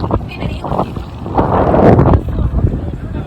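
Strong wind buffets the microphone on Wandoor Beach in the Andaman Islands, a loud, steady low roar swelling midway, while a person talks over it.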